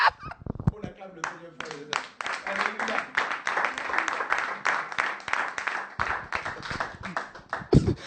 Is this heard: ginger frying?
no